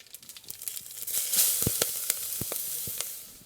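Crackling sizzle of cumin, turmeric and chilli frying in hot oil, with sharp pops and spits scattered over a steady hiss, close and moderately loud.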